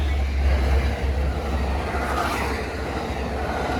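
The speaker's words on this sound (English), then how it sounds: "There goes that train to west of Oakland." Amtrak San Joaquin passenger train 715, led by F59PHI locomotive 2001 with cab car 6964, rumbles past close by, a steady heavy roar with low engine drone and rolling wheel noise throughout.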